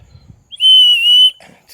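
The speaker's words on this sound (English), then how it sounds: "And the Crime Stopper whistle." A 1950s Dick Tracy Crime Stopper toy whistle gives one shrill, steady blast of just under a second. It is loud and close, with faint handling noise before it and a brief murmur after.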